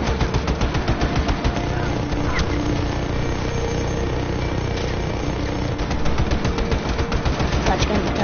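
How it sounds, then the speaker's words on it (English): Rapid sustained minigun fire from the Just Cause 3 video game, a dense loud continuous rattle of rounds running throughout, with a voice speaking over it. "Oh! I've got a fucking minigun."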